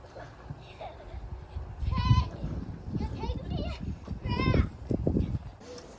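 Goats bleat twice in quavering cries over rustling and movement, with a person talking in the background.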